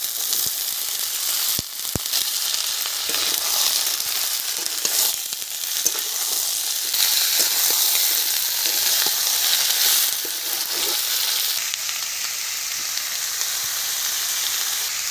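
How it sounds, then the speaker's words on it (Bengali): Onions fry in oil in a pan, a continuous loud sizzle with bright hissing. A few scraping stirs come through, and no one speaks. "পেঁয়াজ ভাজা হয়ে গেছে, হাফ ভাজা হয়েছে।"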